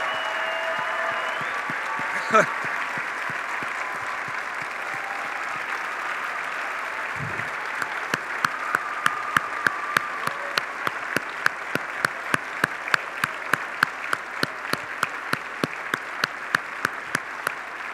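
Audience at a FIRST Tech Challenge robotics event closing ceremony applauds the volunteers, steady crowd clapping throughout that turns into a rhythmic unison clap toward the end.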